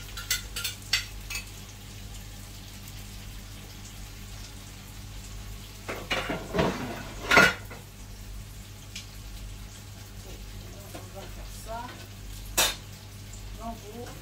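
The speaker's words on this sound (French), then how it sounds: "Mélanger, voilà, vous mélangez comme ça" Tomatoes hiss softly in a frying pan for fish yassa, a low continuous sizzle broken by several sharp scrapes and clinks of a spoon stirring against the pan.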